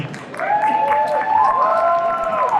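Applause and cheering from a convention audience at a nostalgia fan event in Anaheim, sustained for a couple of seconds at steady loudness, with whoops and voices rising over the crowd.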